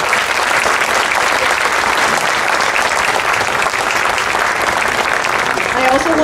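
Audience applause at a ribbon cutting for a new health clinic, La Clinica Del Pueblo: dense, steady clapping from a crowd that holds for several seconds, with faint voices underneath.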